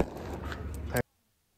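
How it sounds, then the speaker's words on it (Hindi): A cigarette lighter slammed onto the ground bursts with one sharp, loud bang after a moment of scuffing noise. Silence follows straight after. "देख सकते हैं कितना तगड़ा धमाका हुआ"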